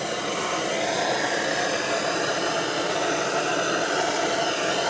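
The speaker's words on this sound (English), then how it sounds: "gotta go slow with the heat. And keep the flame moving." Torch flame roaring steadily as it toasts a natural edge wooden bowl, a loud continuous broadband hiss with no breaks, close up and alone.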